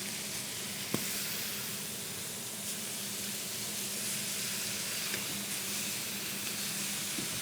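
Steady sizzle and hiss of short ribs searing in a hot pan, a continuous even frying crackle held at one level with a faint click near the start, no voices.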